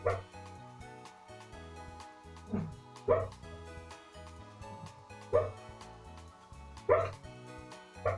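A dog sleeping and making muffled woofs and whimpering yips in its sleep, a handful of soft separate barks spaced a second or two apart over a quiet background.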